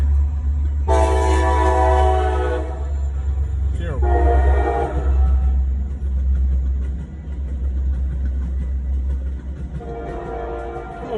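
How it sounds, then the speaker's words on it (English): Train rumbling past nearby with a heavy continuous low roar, its horn blaring loudly in two long blasts and a third shorter one, while a man mutters briefly. "before I was so really interrupted by that big-ass piece of metal going down a piece of track"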